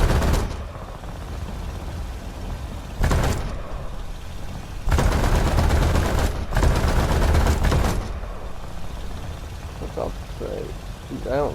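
Aircraft cannon in War Thunder, Battle of the Coral Sea historical campaign, fires in several dense bursts of rapid rattling shots, each lasting about a second or a few seconds, over a constant loud engine drone, with a voice speaking near the end.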